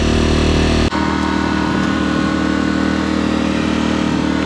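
A small engine, likely a camping generator, cranks and catches, then settles into a loud, steady idle that runs without a break, close to the microphone.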